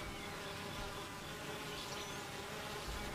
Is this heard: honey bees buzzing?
yes